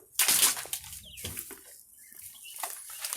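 Chickens near a tropical home cluck softly and intermittently close by, with a burst of flapping or scratching at the start followed by scattered low clucks.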